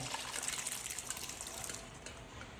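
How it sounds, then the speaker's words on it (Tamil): Cooked cowpeas with their water pour steadily into a pan with a splashing, gushing sound that tapers off near the end. "ஒரு வடைச்சட்டிலிங்க நம்ம வேக வச்ச தட்டைப்பயிரோட தண்ணியோட ஊற்றிக்கலாங்க."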